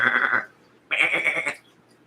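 Goat bleating twice, two wavering calls about half a second apart, fairly close and clear with no talk.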